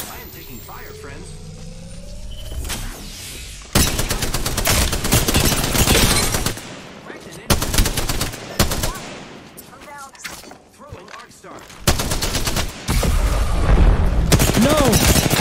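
Video game gunfire crackles in loud bursts and volleys alongside booming impacts, with a player talking over the combat.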